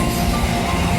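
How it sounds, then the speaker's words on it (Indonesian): A train crosses the Cisomang railway bridge, giving a continuous heavy rumble with dense metallic rattling for the whole moment, close and steady. "senang aja gitu kalau udah ngelihat kereta lewat"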